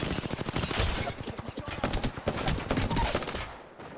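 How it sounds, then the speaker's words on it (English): Gunfire in Apex Legends during a fight while outnumbered, rapid automatic bursts of close, dense shots rattling almost continuously before cutting off near the end. "Very good shots on the Watson."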